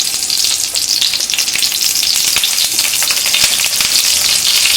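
Stuffed eggplant frying over medium-high heat, a loud, dense crackling sizzle with constant spitting and popping of hot oil, close and unbroken.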